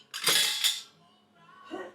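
Cutlery and dishes clink on a table laid for a Scottish breakfast with chips and salad, two bright clattering bursts close together, then a softer clink a moment later, with no talk.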